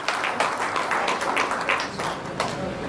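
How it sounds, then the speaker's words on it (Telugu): An audience applauds a book's designer at a literary gathering, a short burst of scattered, moderately close hand claps from a modest crowd. "వారికి కూడా మీ అందరి చప్పట్ల మధ్య వారిని అభినందించండి"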